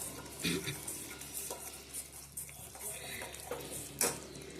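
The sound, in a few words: stirring chutney with curd, onion and chilli in a pan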